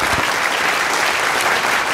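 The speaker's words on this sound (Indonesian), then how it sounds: "beri tepuk tangan buat Kak Ferdi" Children applaud together for a guest at a birthday surprise gathering, a dense, loud burst of continuous clapping with no break.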